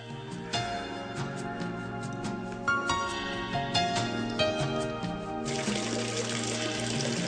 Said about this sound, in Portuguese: A água corre por 1 quilômetro ao longo dessa tubulação até chegar ao castelo.